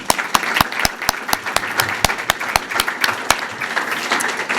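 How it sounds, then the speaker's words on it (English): Small audience at a school board meeting claps for student achievement, a thin scattered round of distinct individual claps with sharp regular slaps standing out, moderately close, no talking over it. "So they get a round of applause for that."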